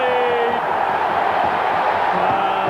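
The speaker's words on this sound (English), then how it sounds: "And the crowd here at Home Park goes absolutely wild." Football crowd at Home Park roaring wildly after an Argyle goal in the 1994 Plymouth Argyle v Burnley play-off semi-final, a dense continuous wall of cheering and shouting heard from within the stands.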